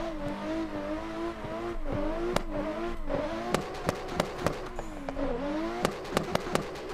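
A Nissan S15 rally car in a snow-drifting alpine rally stage video game screams at redline, its engine whine rising and falling with throttle, punctuated by sharp, repeated clicks and pops.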